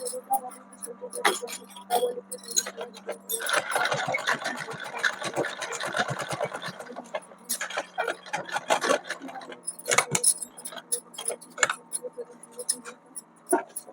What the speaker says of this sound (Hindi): यहाँ पर जो मैंने ये सिलाई के लिए छोड़ा था वहां पर हम इसे सिलाई लगाएंगे